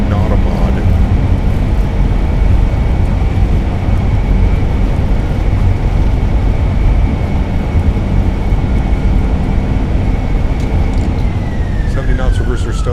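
Airliner thrust reversers roaring on landing in Microsoft Flight Simulator, a loud steady broadband rumble with a sustained tone that falls in pitch near the end as the reversers wind down.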